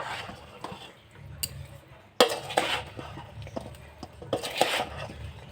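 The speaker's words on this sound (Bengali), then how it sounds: "এবার ভিনিগারটা ভালো করে মিশিয়ে নেব, যাতে পুরো আচারটাতে ভালো করে মিশে যায়।" Vinegar stirred into pickle in a bowl, heard as intermittent clinks and scrapes of a utensil against the container with soft squishy mixing between, a few sharper knocks standing out.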